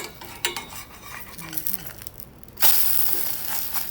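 A spatula scrapes and taps against a frying pan while a pancake is scooped and pressed in a little oil, giving scattered clinks and scrapes, then a louder sizzling rush near the end.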